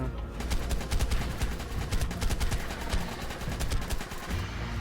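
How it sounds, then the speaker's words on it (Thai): Rapid, sustained machine gun fire in the video game ARK, in The Frozen Depths dungeon: a loud, evenly spaced stream of sharp shots rattling on for several seconds with no speech. "เอาปืนกลยิงดีกว่า"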